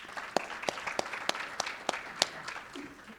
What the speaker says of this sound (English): Nicole, you can clap.